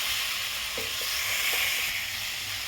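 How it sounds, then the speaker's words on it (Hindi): Chicken sizzles and fries in masala in a pan over a high flame, a loud, continuous hiss with a few soft stirring knocks. "चिकन मैं डाल दी हूँ। गैस को मैं हाई फ्लेम पर कर दी हूँ और इसे मैं अब भूनूंगी"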